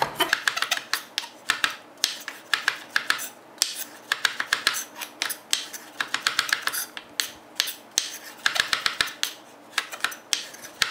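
Shiitake and other mushrooms being cut into squares with a knife on a cutting board, a quick, irregular series of crisp chopping taps in close clusters with short pauses between them.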